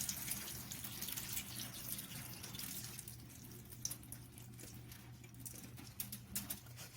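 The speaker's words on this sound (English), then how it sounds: "And then you just want to drain the water out one last time." Rinse water draining from washed sushi rice, a faint, steady trickle and patter of water at a kitchen sink with scattered small drips.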